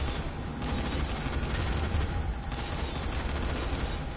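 Sustained gunfire from the video game Dying Light, a dense, continuous barrage of shots with a heavy low rumble, steady and loud throughout with no pauses.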